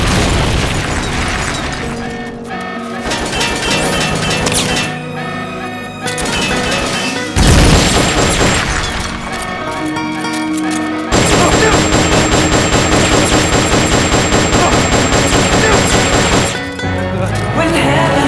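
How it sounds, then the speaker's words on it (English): Supporting-fire barrage in Metal Gear Solid: Peace Walker, loud booming explosions and bursts of gunfire layered over dense music, continuous and heavy with several sharp peaks. "They're about to commence the requested supporting fire."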